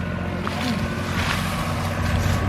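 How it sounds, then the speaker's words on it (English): A bulldozer tractor engine runs during a farm tractor ride, a steady loud rumble with wind buffeting the microphone throughout, no talking. "You're in a bulldozer tractor."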